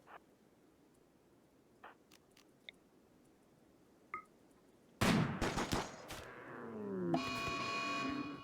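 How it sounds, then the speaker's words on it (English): Colonist gunfire in the RimWorld video game: after about five seconds of near-quiet with a few faint clicks, a loud burst of shots breaks out, followed by a dense, sustained stretch of game noise. "I'll have Mara continue shooting the other ones to keep them away so that they don't aggro"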